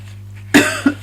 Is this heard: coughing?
yes